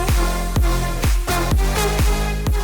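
An excerpt of an electronic dance song plays loud and full, driven by a steady four-on-the-floor kick under layered synth chords, with no talking.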